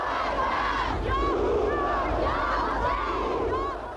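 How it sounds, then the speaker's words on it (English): A huge crowd fills the streets of Tehran, a dense, continuous roar of many voices with rising, rhythmic chanting cries heard from a distance. "Crowds on the streets swelled to unbelievable proportions."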